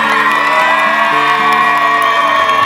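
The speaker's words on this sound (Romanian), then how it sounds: "Aplauze! Hai să zicem pentru ea!" An audience at a Romanian rural talent-show contest cheers for a female contestant, with loud, steady whooping and shouting from a crowd and no clear break.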